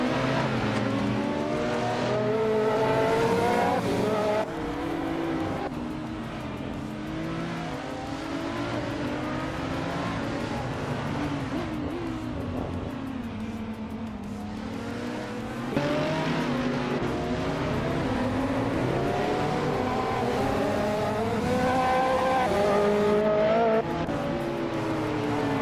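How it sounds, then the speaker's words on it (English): A 2009 Mooncraft Shiden race car laps Zandvoort in a racing game. The engine drones steadily and loud for a long stretch, revving up and down through gear changes as the car corners, with no voices. "Wifuana is driving a 2009 Mooncraft Scheiden."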